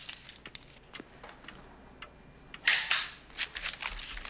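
A camera shutter snaps once to take a photograph in a 1979 television drama, a single crisp click rising out of a quiet room with faint ticks and rustles around it.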